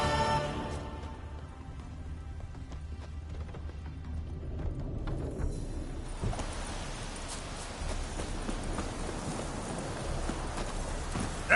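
Roach the horse gallops in The Witcher 3: Wild Hunt, with rapid, steady hoofbeats clip-clopping continuously and fairly loud over a low game background.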